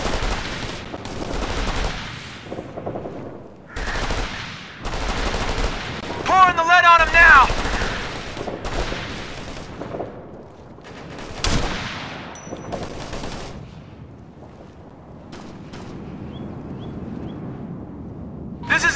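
Sustained gunfire and rapid machine-gun bursts crackle through a battle in the military shooter Operation Flashpoint: Red River, loud and dense with repeated volleys and a heavy blast, while soldiers shout over the shooting.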